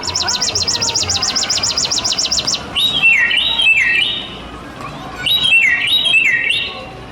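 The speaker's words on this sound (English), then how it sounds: "The chipping sparrow! Neat! We collected its call." Rapid buzzy chipping sparrow trills sound first, then descending laser-like sweeping calls repeat in two bursts, clear and fairly close against a light background hum.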